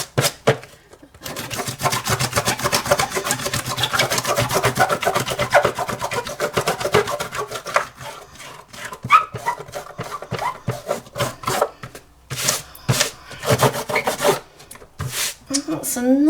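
Dried masking fluid rubbed hard off watercolour paper with a rubber pad, giving a continuous close, rasping scrub for several seconds that then breaks into shorter, intermittent strokes.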